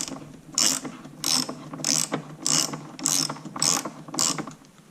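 An 11mm socket on a ratchet tightens the fuel pump bolts on a snowmobile, giving six evenly spaced bursts of close, crisp ratcheting clicks over a steady low background hum.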